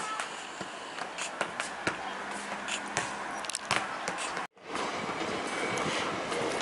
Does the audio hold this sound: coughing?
no